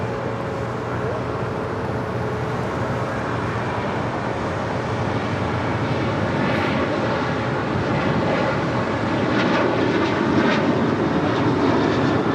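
A United Airlines Boeing 737-900ER takes off at LAX, bound for Orlando, with a steady, broad jet engine roar that builds slightly toward the end and continues unbroken throughout.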